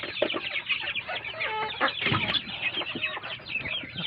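Chickens cluck busily up close while being given grower feed, several birds overlapping in a steady, dense chatter with no talking.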